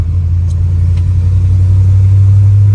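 A 1963 Studebaker Champ pickup truck engine drones steadily with a low, even rumble, heard close and loud with no talking.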